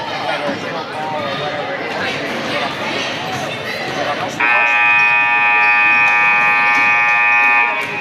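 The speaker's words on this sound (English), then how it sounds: "the buzzer sounds as we prepare to get underway." A loud electronic buzzer at a boys' high school basketball game, Woodstown versus Penns Grove, blares for about three and a half seconds over steady gym crowd noise and chatter.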